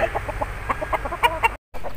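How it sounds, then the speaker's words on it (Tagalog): Gamecocks at a fighting-rooster farm give a series of short, close clucks and soft calls in quick succession, ending with a brief gap. "Manok panabong po yung nandito ngayon."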